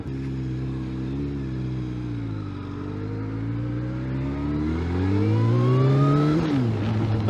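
A Kawasaki Ninja ZX12R motorcycle engine idles, then revs up on its own, its droning pitch climbing steadily and louder before dropping off sharply near the end, close and with no talking.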